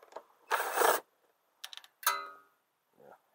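Hand tools work on the fuel pump of a Kohler Command CV22 engine, giving short ratcheting clicks and metallic scraping bursts separated by pauses, close and fairly quiet with no talk.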